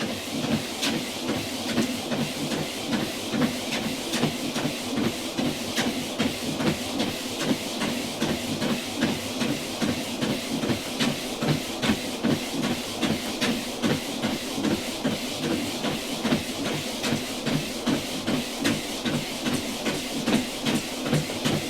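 A HOFTME AoraPulse 2.5HP folding walking pad treadmill runs at speed 8, its motor giving a steady close whirring hiss with a fast regular ticking pulse from the belt, unbroken for the whole stretch with no talking.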